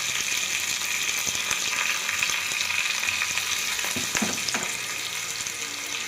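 Mustard seeds and other tempering spices crackle and splutter in hot oil for lemon rice, a dense, loud, continuous sizzle with quick popping bursts and a few spoon scrapes as the pan is stirred.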